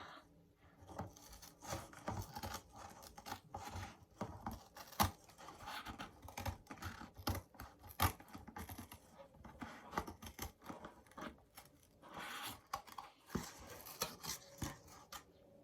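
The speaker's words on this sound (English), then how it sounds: "It is a little tricky to cut through cardboard." Scissors chop and crunch through stiff cardboard in repeated uneven snips, close and fairly quiet, with rustling and handling noise between cuts.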